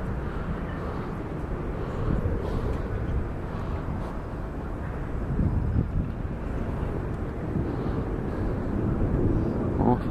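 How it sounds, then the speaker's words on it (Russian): Military aircraft from Chkalovsk airbase flying over Kaliningrad, a steady low rumble that fills the whole stretch alongside street noise, fairly constant with slight swells. "Самолеты каждый день, авиация летает, Чкаловский гремит над Калининградом"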